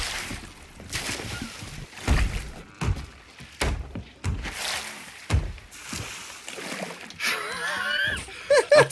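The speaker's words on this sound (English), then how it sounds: "Use a bucket to empty water" Water splashes and thumps on a ship in the Sea of Thieves video game, with repeated bursts and clunks, busy and fairly close, while voices talk and laugh over the action.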